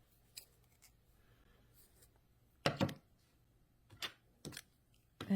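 Scissors cutting a length of yarn for a crocheted mitten ornament: a few short, crisp snips spaced apart in a quiet room, with no talking.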